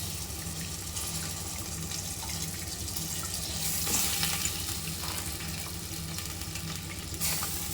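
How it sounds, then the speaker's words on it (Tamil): Chicken sautéing in a pan with fried onions gives a steady, hissing sizzle close by, with a slight swell and stirring scrapes midway; no talk. "நம்ம இந்த சிக்கனை எடுத்து இதில் ஆட் பண்ணிக்கலாம்."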